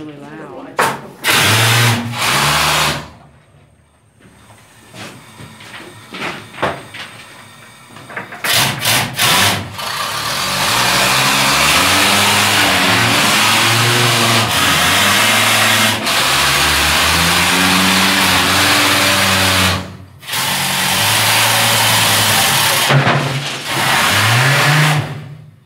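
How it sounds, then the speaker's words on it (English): Mucker loader machine in a Colorado mine runs loud and close, its engine rising and falling in repeated revving swells with rough mechanical rumble, brief pauses between bursts. "Let me run this mucker for you."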